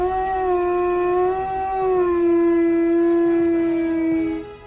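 A dog howls in one long, loud, sustained note with a slowly falling pitch, close to the microphone and alone, fading at the end.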